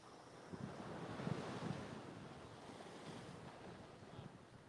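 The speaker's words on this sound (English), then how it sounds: "Oh, waves came up again." Ocean surf washes in a continuous low rush beneath a fishing pier in Panama City, Florida, with wind buffeting the microphone, fairly faint and steady with no voices.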